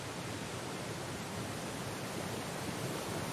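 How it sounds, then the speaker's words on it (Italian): A waterfall rushes in Syberia: The World Before, a steady, dense roar of falling water heard alone at moderate volume without a break. "È una cascata!"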